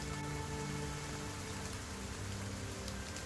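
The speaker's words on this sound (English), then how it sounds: "Listen to the rain." Steady rain falls as a constant, soft hiss with a faint patter, quiet and unbroken throughout, with no voices.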